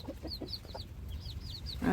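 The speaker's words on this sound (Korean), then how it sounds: "저 종자가 백봉이고 이름은 내가 지었어요. 오봉이라고." A white Silkie hen clucks softly in a rural farmyard at morning, several short clucks spaced through the clip amid high chirping birds, ending with a louder burst of nearby activity.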